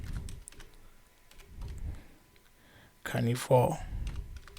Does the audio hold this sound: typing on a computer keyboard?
yes